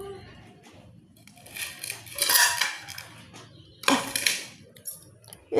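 Children clatter plates and dishes at home in irregular bursts of ringing ceramic and metal knocks, close by and fairly quiet, with soft background voices between the clashes.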